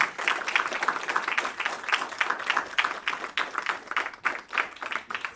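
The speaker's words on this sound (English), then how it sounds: "Another huge round of applause for the panel." An audience claps for a panel in a cinema before a film awards screening, a lively fairly close round of applause with individual claps clearly distinguishable and small surges and dips in intensity.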